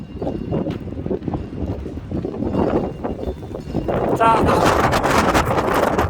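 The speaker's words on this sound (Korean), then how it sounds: "산에 지금 바람이 어느 정도 부는지 한번 가서 살펴드리도록 하겠습니다" Strong wind sweeps over a hill in the Sokcho, Yangyang and Goseong area, where trees stand dry after a wildfire, buffeting the microphone with a constant low rumble that swells near the end while someone speaks Korean over it.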